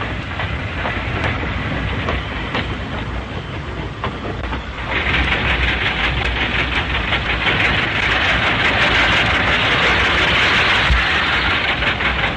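An iron-ore train rolls steadily along the railway, a continuous rumble and clatter with a brighter hissing rise partway through.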